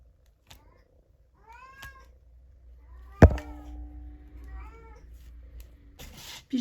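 A female cat in heat gives several drawn-out, rising meows, close by and fairly quiet, with a sharp knock partway through and faint room noise.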